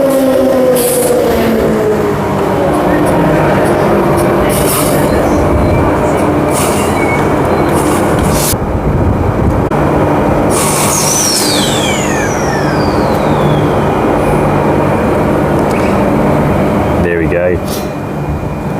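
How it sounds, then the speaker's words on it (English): A two-car electric Fremantle train rolls into City West Station, wheels squealing and motors whining as it slows, with a loud hiss and clatter near the end. "Now we have a train just coming in now, the Fremantle train."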